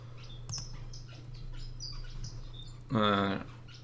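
Finches in Sydney, Australia, on a morning, give scattered small chirps and tweets under a steady low hum, then one louder harsh call near the end.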